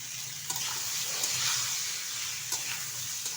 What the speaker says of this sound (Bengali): ভালোভাবে একটু নেড়ে চেড়ে নেব